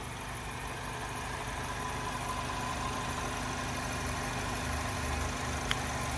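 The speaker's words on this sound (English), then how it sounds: "So as you can see, the vehicle is currently running." A 2009 Chevy Malibu engine idles smoothly and steadily, a constant low hum with an even tone and no surges, heard alone from the engine bay.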